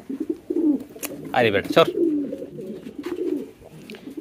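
Domestic pigeons, including a young Sirazi pigeon, coo in low throaty bursts close by, with a louder burst of cooing in the middle while someone speaks briefly over them.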